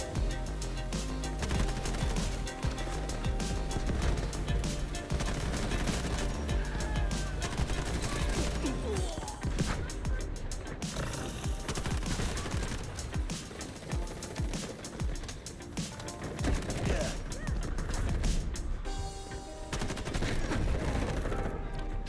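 A Vityaz submachine gun fires in Delta Force in dense, rapid bursts that run nearly nonstop, loud and close, with brief pauses and other gunfire mixed in.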